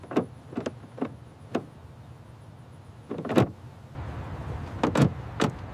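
Car door rubber seals squeak on all four doors, a series of short sharp squeaks at uneven intervals, some doubled, fairly close over a low background hum.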